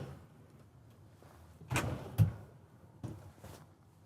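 Storage drawers in the bedroom of a Jayco Seneca 37TS RV slide open and shut, giving a couple of quick, close thuds and a softer slide a moment later against a quiet room.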